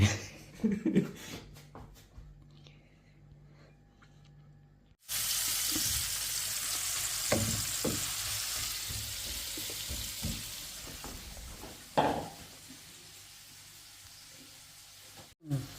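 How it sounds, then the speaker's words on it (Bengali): Khichuri cooks in a pot, giving a long steady hiss of sizzling and bubbling. It begins after a short quieter stretch, with occasional knocks from stirring and a sharper clatter near the end. "এদিকে রান্না হচ্ছে খিচুড়ি ওমা কি অবস্থা নাড়া দিতে হইব খালি"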